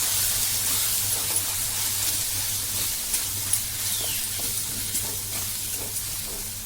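Tomato with masala, chilli, turmeric and salt sautés steadily in a pan, a continuous close sizzle and hiss with faint scattered stirring clicks.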